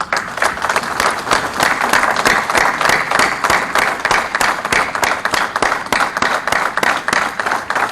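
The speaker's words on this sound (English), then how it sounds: "request all those presiding officers of model courts to kindly stand up so that we can clap for them" A crowd applauding steadily and loudly at an event in Islamabad, many hands clapping in a dense, continuous rush that holds for the whole stretch without letting up.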